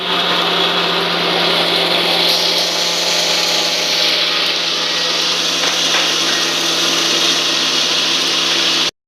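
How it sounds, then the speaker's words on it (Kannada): A mixer grinder whirs steadily and loudly, grinding a wet masala of coconut, poppy seeds and cinnamon with water, the motor's hum constant until it stops abruptly at the end. "ಸ್ವಲ್ಪ ನೀರನ್ನು ಹಾಕಿ ಮುಚ್ಚಳ ಮುಚ್ಚಿ ನೀಟಾಗಿ ರುಬ್ಕೋಬೇಕು"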